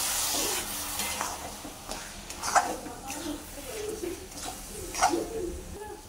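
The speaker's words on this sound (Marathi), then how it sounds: "आता ह्यामध्ये घालूया आपण दूध थोडंसं आणि 5 ते 10 मिनिटं आपण चांगलं हलवून घेऊया" Coconut barfi mixture with milk being stirred in a pan, giving soft scraping and gentle sizzling strokes at an uneven rhythm, close up, with faint talk in the background.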